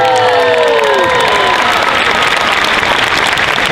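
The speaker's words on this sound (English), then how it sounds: "One more time, round of applause for..." A large crowd applauding and cheering loudly at the Dragon Con Friday night costume contest in Atlanta, dense continuous clapping with shouts and whoops, strongest at the start.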